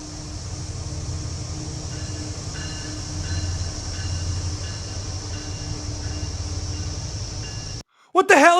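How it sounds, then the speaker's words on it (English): A train rumbles past steadily with low broadband rumble and faint rhythmic wheel clatter, fairly close and continuous, before cutting off abruptly near the end into a brief burst of other noise. "It's a train."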